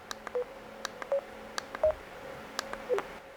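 Short electronic beeps from a Razer Kraken V3 HyperSense headset chirp faintly and irregularly as its button is pressed, several quick tones over quiet background hiss.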